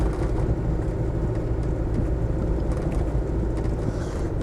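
A Range Rover Vogue SE softdash with a 300TDi diesel and automatic gearbox cruises along, a steady, dense engine and road drone filling the cabin without a break.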